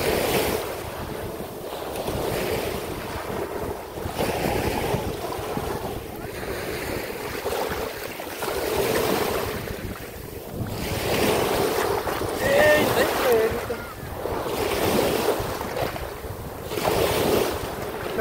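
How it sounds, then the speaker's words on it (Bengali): Waves break on the shore at Al Jaysiya beach in Qatar, surging in repeated swells with steady wind buffeting the microphone. "আজকে এত ঢেউ হইতে আছে এই যে প্রচুর ঢেউ হইতে আছে"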